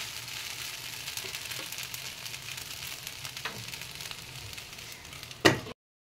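Sabudana khichdi cooks under a lid on a low gas flame, a faint, steady soft sizzle and hiss with small pops. A single sharp knock sounds just before it ends.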